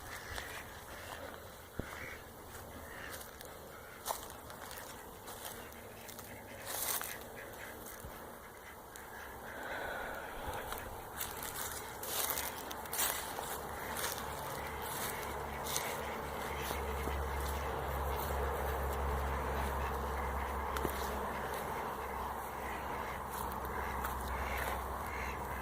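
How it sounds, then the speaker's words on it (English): Farm ducks quack faintly in the distance on a springtime farm, scattered calls over a soft outdoor hush that thickens into a low wind-like rumble toward the end. "here's all the ducks."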